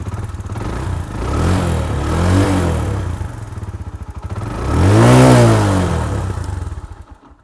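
A Suzuki GS 150 cafe racer with its stock exhaust idles close by with a steady thumping chug, revs up twice in rising swells and settles back to idle between them.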